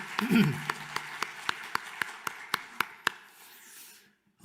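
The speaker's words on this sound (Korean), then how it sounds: "주님께 한번 다 같이 다시 한번 영광의 박수 올려드리겠습니다." Church congregation at an Easter Sunday service clapping in unison, a slow, even series of sharp claps following a spoken voice and then fading out.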